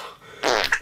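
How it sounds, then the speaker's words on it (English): A single short, loud fart bursts out after a brief quiet moment, with a sputtering tail at the end and no talking. "help Daddy fart!"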